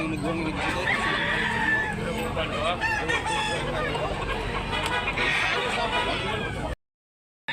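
Chickens and roosters at a backyard breeder's in Tabunok, Talisay, Cebu, with crowing and clucking mixed through steady close talk, continuous until a sudden cutoff near the end.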